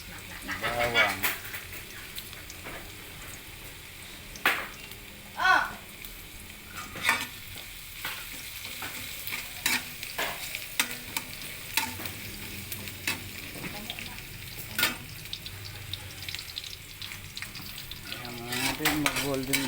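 Garlic frying with ginger in a pan, a steady low sizzle broken by repeated sharp scrapes and clinks of a utensil stirring against the pan.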